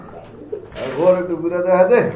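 A snake-eyed pigeon gives a close, low, rolling coo lasting just over a second, with a faint voice at the start.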